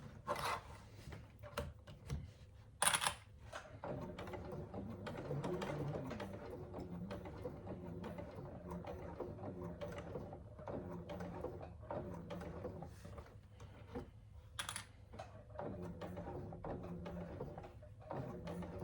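Sewing machine stitching slowly around the curves of a hobo bag, a steady low mechanical whir with faint ticking, continuing for the whole stretch with occasional sharper clicks.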